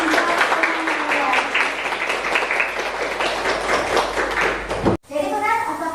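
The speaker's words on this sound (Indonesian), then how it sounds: "Beri tepuk tangan untuk semuanya." Classroom of students applauding during a school lesson, a run of brisk, fairly loud clapping with voices mixed in, ending abruptly before a brief stretch of speech.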